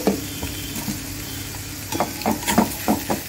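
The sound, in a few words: potatoes added to frying masala in pan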